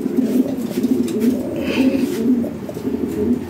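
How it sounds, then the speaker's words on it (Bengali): Toy Lahori pigeons coo in a steady, overlapping chorus of low, rolling calls close by, with a faint chirp in the background and no talk. "এগুলো টয় লাহোরি সব, টয় বিটির কবুতর।"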